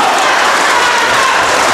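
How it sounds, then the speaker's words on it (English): A wrestling crowd roars steadily for Kongo Kong during a match against Jason Levi, a loud, dense wash of cheering and applause with no break. "The crowd rallying behind Kongo Kong."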